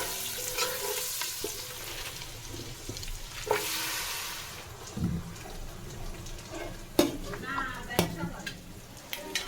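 Shrimp with chili, onion, garlic and turmeric frying in a pot, a low continuous sizzle broken by several clanking stirs and scrapes, with a voice talking in the background at times.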